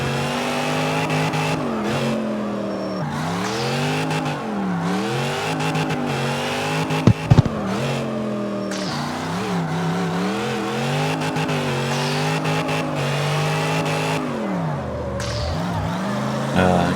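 A V8-swapped Toyota Yaris drift build in CarX Street roars continuously, the engine note rising and falling through repeated revs and shifts, with brief tire squeal and a sharp knock midway, loud and close throughout.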